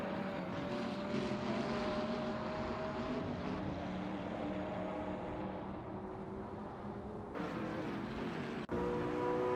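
Hypercar engines roar continuously through a racing video game at Spa, a steady loud drone with shifting tones from several cars, with a sudden sharp change near the end.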